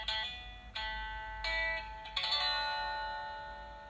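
A children's sound book plays a bass guitar sample: a short series of ringing plucked notes starting at intervals, each sustaining and fading. It is clear and alone, with no talking.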